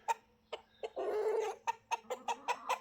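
Hens and a rooster in a chicken pen give a run of short, evenly spaced clucks, with a louder, longer squawk near the start, heard close and without talk.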